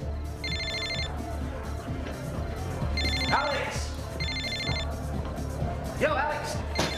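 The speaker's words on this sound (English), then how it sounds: "It's your phone." A telephone rings in a police drama scene, several bursts of a trilling electronic bell in a repeating pattern, clear and fairly close, with voices and background scene noise around it.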